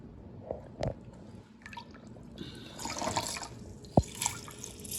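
Lemon juice drips and trickles into a measuring cup while lemonade is being made, with a few sharper drops standing out over a steady wet pouring sound.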